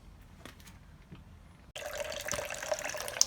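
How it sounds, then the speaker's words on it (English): Water and vinegar flush draining from the cooling system of a Kawasaki GPZ500S motorcycle, starting abruptly after faint clinks and then running as a steady splashing pour until the end. "Back on the coolant coming out."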